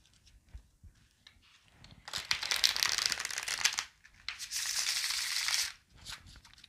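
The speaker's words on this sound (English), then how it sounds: "Let me shuffle real quick." Tarot cards being shuffled in two bursts of crisp riffling and rustling, close by, with quieter handling sounds between and around them.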